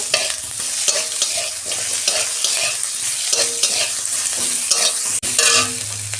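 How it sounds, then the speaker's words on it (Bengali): Cumin seeds and onion frying in hot oil with a bay leaf, a loud, steady sizzle with constant stirring and scraping close by, one brief dropout near the end. "গোটা জিরে দিচ্ছি অল্প ফোড়নে, পেঁয়াজ দিচ্ছি আমি অল্প"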